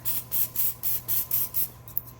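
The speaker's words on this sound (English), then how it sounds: "I'm going to grab the olive oil spray and I'm going to just spritz the chicken." Olive oil spray spritzed over homemade chicken nuggets before baking: about seven quick, close hissing bursts in an even rhythm, with no talking.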